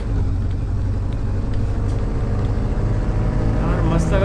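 A video game Audi Q7 in Car Sale Simulator runs with a steady, low engine drone at constant volume, its tone climbing slightly near the end.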